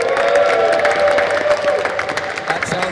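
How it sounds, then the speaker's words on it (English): Crowd at a Rodeo City Roller Derby bout against Jet City erupts in a sustained, loud cheer with whoops and scattered applause, steady for the full stretch and dense throughout. "Big cheer"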